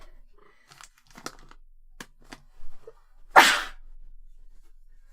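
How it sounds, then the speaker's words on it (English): A single sharp, close sneeze from a person with a lingering cold bursts out near the end, preceded by a few small crinkling and shuffling noises in an otherwise quiet room. "I'm gonna sneeze"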